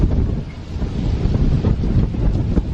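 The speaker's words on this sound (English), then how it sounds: "Oh, wow, that wind." Gusty wind rushes steadily past an outdoor microphone at an old 1925 house, a loud broadband roar with buffeting swells and no voices.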